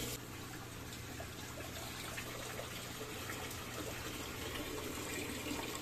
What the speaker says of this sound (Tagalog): Ayan na, gumagana na yung filter natin. And iikot na yung tubig na yan